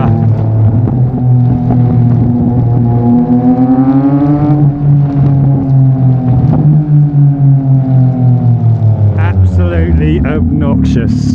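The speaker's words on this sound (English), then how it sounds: "the amount of noise coming from my exhaust might drown out my voice" A Yamaha MT-09 motorcycle with a loud Mivv X-M50 aftermarket exhaust drones steadily and close, its engine note rising and falling with throttle, with a rider's voice mixed in underneath.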